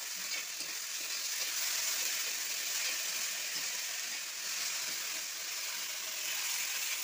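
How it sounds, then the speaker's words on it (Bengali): Ground spice paste poured into a hot pan while cooking Bengali doi potol, giving a steady, even sizzle and hiss throughout with no voices. "তারপরে এই যে আমি বাটা মশলাটাও ঢেলে দিচ্ছি।"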